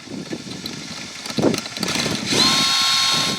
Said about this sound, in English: So we're going to have to drill them out.